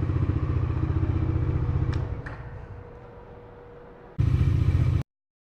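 Bajaj Dominar 400 motorcycle engine heard through a mic inside the rider's helmet, a muffled low rumble that fades down over a few seconds, then a loud burst of engine noise before cutting off abruptly.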